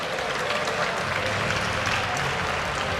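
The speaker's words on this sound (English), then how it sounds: "Give them a cheer." A stadium crowd at an LCS EU Summer 2013 esports match cheers and applauds steadily for team MeetYourMakers, a dense, loud wash of clapping with no break.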